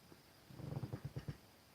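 A domestic cat purrs close by while rubbing against objects, giving a soft, low rhythmic rumble in about eight quick pulses over roughly a second.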